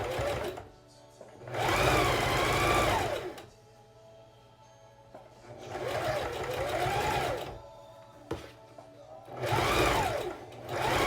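Sewing machine stitching along the edge of a fabric face mask strap, running in three steady whirring bursts separated by pauses, close and clear with no talking.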